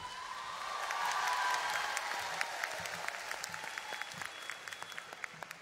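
Audience applause rises and holds steady through a Myanmar Idol televised singing competition, with dense clapping from a large crowd that gradually thins into scattered claps toward the end.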